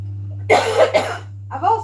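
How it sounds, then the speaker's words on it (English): A person coughs close by in two bursts: a rough, hacking fit of several coughs, a short pause, then a shorter follow-up cough. "I've also got a shocking cough."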